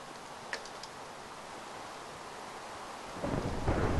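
Video game rain hisses steadily throughout, with a low rumble of thunder swelling near the end; a few faint ticks sound early on.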